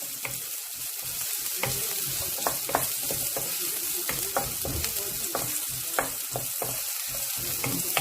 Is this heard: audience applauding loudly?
no